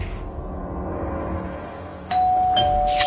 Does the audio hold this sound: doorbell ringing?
yes